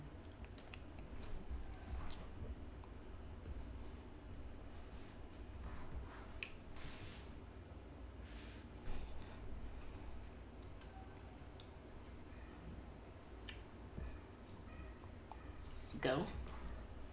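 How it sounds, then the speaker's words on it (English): Crickets chirp continuously in the background of a quiet outdoor ambience, a steady high-pitched trill with faint scattered knocks and rustles over it. "you can hear the crickets in the ambience"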